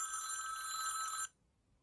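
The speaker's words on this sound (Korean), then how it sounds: "화면 상단에 더하기 버튼을 누르고 톰 브라운 벨소리를 선택합니다" A Samsung Galaxy Thom Browne edition ringtone plays as a bright, steady electronic tone for just over a second, then cuts off into near silence; no one speaks.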